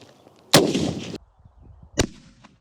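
Rifle shot from a .308 civilian 175-grain round without a steel core, fired at an armour plate from 20 metres: one sharp, loud crack with a short rumbling tail, then a second sharp impact report about a second and a half later.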